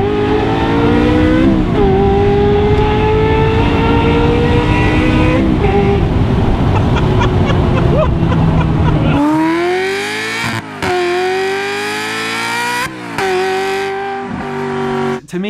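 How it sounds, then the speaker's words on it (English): A Ferrari 355 fitted with a Capristo exhaust revs hard, loud and close, its high harmonic wail climbing and falling through repeated blips, with sharp throttle cuts in the later half. "the Capristo on the 355, which I will say is probably one of the best sounding car combination exhaust notes in the world"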